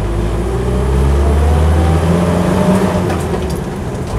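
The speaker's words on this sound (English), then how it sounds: "Pulls away well." A Land Rover Series III 88-inch soft-top pulling away, its engine a loud, close, steady low rumble that builds slightly, with road and cabin noise and no talking.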